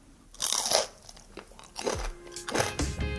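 Crispy deep-fried pork belly chicharrón bitten and chewed up close, with loud brittle crunches coming in several bursts separated by short quieter pauses.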